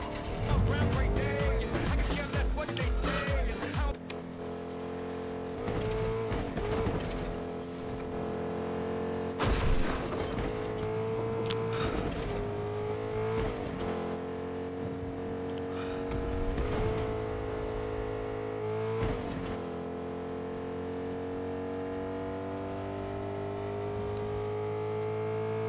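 Vehicle driving in the video game Fortnite: a continuous engine drone with shifting pitch and revving surges, broken by several sharp impacts and clatters, loud and close throughout.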